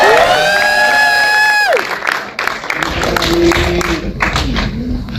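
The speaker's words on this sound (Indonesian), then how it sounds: "boleh kita dengar tepuk tangannya juga untuk Ami" A crowd at an Indonesian film press conference claps and cheers for Ami. A loud held vocal or musical tone is cut off first, then mixed clapping, whoops and shouts follow.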